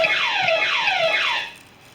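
A house alarm blares after a wrong code is entered, a loud, close electronic siren sweeping downward in repeated fast wails before cutting off abruptly, with no voices.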